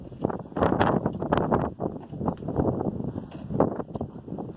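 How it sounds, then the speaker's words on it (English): Gusty wind buffets the microphone in loud, uneven low rumbles and bursts, continuous throughout with no voices. "It's still kind of windy and cold here"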